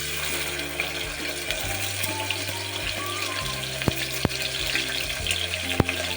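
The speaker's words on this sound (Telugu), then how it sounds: "కొంచెం ఫ్రై ఒక 2 నిమిషాలు ఆనియన్ ఫ్రై కానిద్దాం" Sliced onion frying in a couple of spoons of hot oil gives a loud, continuous sizzle, with a low steady hum beneath and a few sharp clicks of a spoon against the pan.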